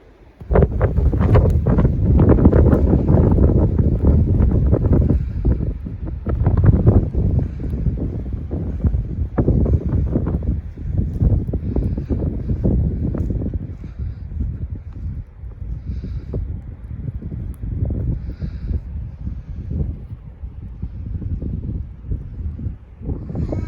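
Strong wind buffets the microphone outdoors at a Boer goat pen during stormy weather, a loud roaring rumble in gusts that eases somewhat in the second half.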